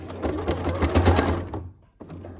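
A sewing machine stitches a seam joining a hood to a hoodie, a fast close rattling run of stitches that stops abruptly, followed by a short pause and a single click.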